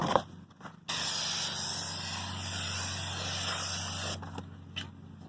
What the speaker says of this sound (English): I'm gonna clean with a brake cleaner